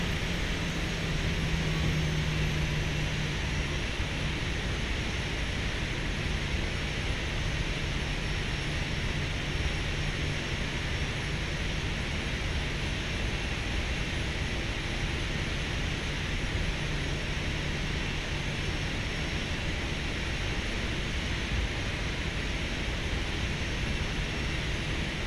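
Southwest airliner taxiing at Nashville International in the X-Plane 12 flight simulator, a steady, loud broadband engine roar with a low hum that holds evenly throughout, with no speech.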